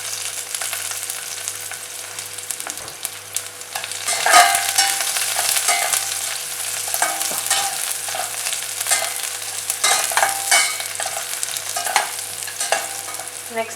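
Garlic frying in oil with fennel seeds, cinnamon and curry leaves for a spicy rice dish, a steady close sizzle broken by scraping stirs and a few louder bursts, with no talk.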